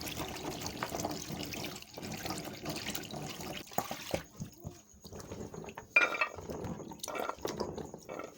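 Banga palm fruit is washed under running water, splashing and trickling close by in uneven bursts with drips and sloshes, quiet, with no voices.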